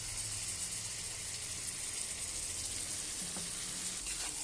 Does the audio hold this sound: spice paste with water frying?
yes